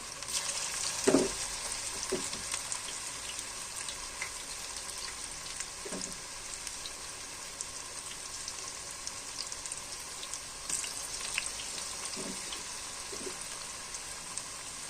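Cabbage vadas fry in hot oil, a soft steady sizzle near at hand, broken by a few sharp crackles and pops from the pan.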